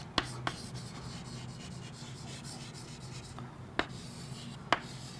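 Writing on a classroom board during a biology lecture: a steady, quiet scratchy rubbing with a few sharp taps of the writing tool against the board, alone with no talk.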